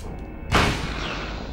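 A single sharp gunshot in the Silent Hill video game, a sudden loud crack followed by a lingering decaying tail.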